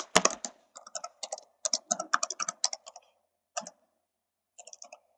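Fast typing on a computer keyboard while entering a file name, crisp key clicks in quick bursts with short pauses between them, close and clear with no talking.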